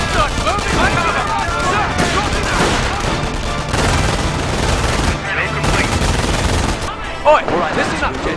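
Continuous gunfire and machine-gun bursts rattle loudly through a Company of Heroes 2v2 battle on Duclair, with dense overlapping volleys, occasional heavier booms, and soldiers' voices shouting over the shooting.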